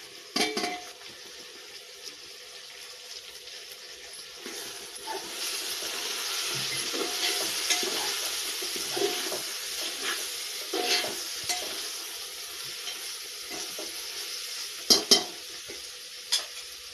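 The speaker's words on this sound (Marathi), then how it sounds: "आता हे सगळे जिन्नस परतल्याच्या नंतर मसाले टाकून घ्यायचे." Spices go into sautéed ingredients for Maharashtrian masala rice, stirred in a hot pan with a steady sizzle and frying crackle, a spoon scraping now and then and a few sharper clinks near the end.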